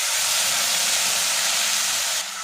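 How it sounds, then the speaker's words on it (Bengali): Water poured into a hot pan of dry-roasted moong dal sizzles as a loud, steady broadband hiss lasting a couple of seconds, then eases slightly at the end. "এবারে এর মধ্যে দিয়ে দেব জল।"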